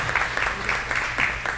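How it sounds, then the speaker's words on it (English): An audience at a Dallas community meeting on housing claps in a steady, dense round of applause that runs through the brief stretch. "Y'all give them another round of applause."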